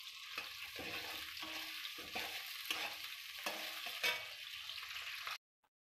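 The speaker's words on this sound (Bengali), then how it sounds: "এরপর পেঁয়াজ দিয়ে দেব, একটু পেঁয়াজটা নাড়ব," Onions fry in hot oil with cumin in a pan for mutton curry, hissing steadily while a spatula scrapes and stirs them in repeated strokes. Everything cuts off abruptly at the end.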